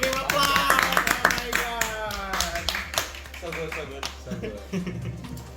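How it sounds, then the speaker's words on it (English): Students applauding Justin after his statement in a school debate on collecting phones: lively, uneven clapping mixed with excited voices and cheering close by. "Let's give him applause."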